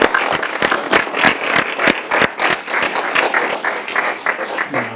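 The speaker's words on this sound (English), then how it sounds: "Let's give her another round of applause." Audience clapping at a school board meeting, a fairly sparse round of individual claps with distinct sharp hand strikes, moderately loud and close, lasting several seconds.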